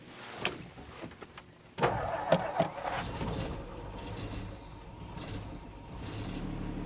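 A 1959 Meteor car engine idles after a restoration, catching with a few sharp clattering pops and then settling into a low, steady idle that sounds close by.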